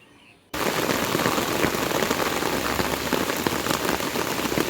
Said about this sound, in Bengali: দেখতে দেখতে দেখা কত বৃষ্টি শুরু হয়ে গেল